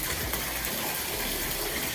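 Liquid gushes steadily into a bathtub, a continuous close splashing rush of water with no talk over it.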